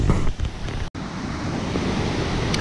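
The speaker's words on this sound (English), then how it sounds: "Hazel Creek. It's a little waterfall riffle up here." Hazel Creek's water spills over a small waterfall riffle on a camping trip, a constant broad outdoor rushing with a brief dropout near the start.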